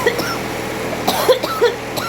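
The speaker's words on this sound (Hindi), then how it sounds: "मुझे खांसी उठ रही है बहुत ज़्यादा" A woman coughs in a few short, harsh bursts over the steady low hum of a worn-out, noisy room air cooler, close and fairly loud.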